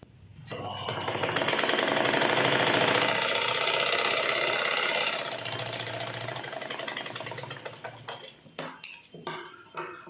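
A sewing machine runs a line of stitching on the lining fabric of a prince cut blouse, a close, steady mechanical whirr and rattle for about five seconds that eases off, followed by a few sharp clicks and handling noises.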